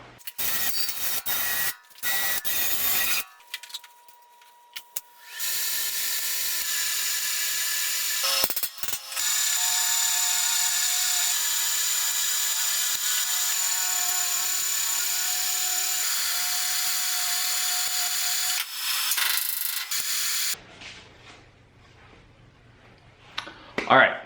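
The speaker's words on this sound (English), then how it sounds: "we should be able to just light up the welder and get to work" Welding suspension bracing tabs produces a steady, loud hissing buzz that holds for long stretches with brief pauses and clicks between welds. A voice is heard at times in the shop.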